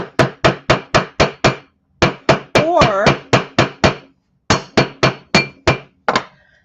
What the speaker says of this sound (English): I can just keep hammering